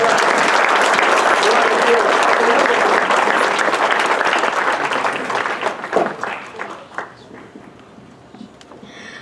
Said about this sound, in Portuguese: Vamos dar uma salva de palmas pela vida dela.